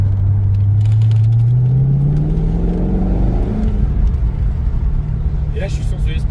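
A Corvette C5 V8 driven on light throttle with traction control off gives a loud, deep engine drone that climbs steadily in pitch, heard from inside the car with people talking over it.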